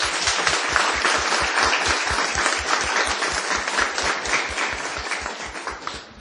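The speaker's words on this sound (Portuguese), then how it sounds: "Pode aplaudir isso, viu?" A congregation at a Catholic Marian gathering applauds loudly and steadily, the crowd's clapping carried over a regular low, rhythmic thumping that runs throughout before fading a little at the close.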